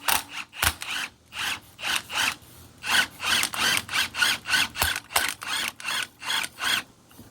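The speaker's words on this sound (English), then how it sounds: "We're going to see what we can do with the impact." Impact wrench tightening a bolt on a T25/T264/T254/T234/RK25 steering knuckle reinforcement kit, sounding as a series of loud, evenly spaced rattling bursts that come in quick succession, close up with no talking.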